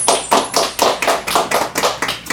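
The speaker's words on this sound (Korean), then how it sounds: "아우, 방청객까지 박수." A studio audience claps in a quick, even rhythm of sharp, close hand strikes, about a dozen beats in a row, with no voices over them.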